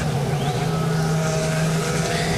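IndyCar race cars on the São Paulo street circuit roll down pit lane, a steady loud engine drone with a sustained low tone throughout.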